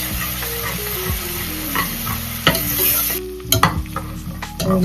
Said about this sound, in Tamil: ரெண்டு ஸ்பூன் இஞ்சி பூண்டு போட்டு போட்டு நல்லா வதக்கிட்டு